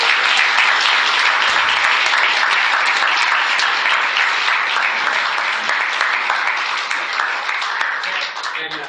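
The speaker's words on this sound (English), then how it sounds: "how about a round of applause for all of them?" A crowd at a science contest event bursts into sustained applause for the winners, dense clapping that stays steady for several seconds and then gradually thins out, with no speech over it.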